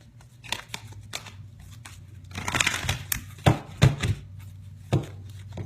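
Angel message cards being gathered and shuffled, with scattered soft slaps and papery riffles, a louder burst of card friction midway and a few sharp taps near the end.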